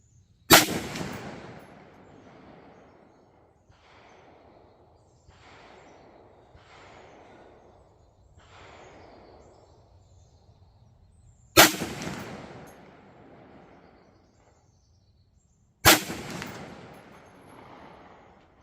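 Three loud, sharp rifle shots from a Bear Creek BCA 350 Legend 20-inch stainless upper firing 180-grain rounds, spaced far apart, each followed by a fading echo across an outdoor range.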